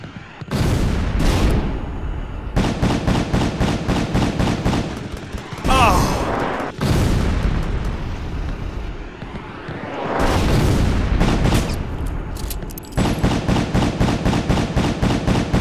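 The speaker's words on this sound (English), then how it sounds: "Shotgun." Shotgun fire in the Metal Slug run-and-gun game Steam Slug, repeated loud blasts in dense bursts with short pauses between, mixed with explosion booms and game music.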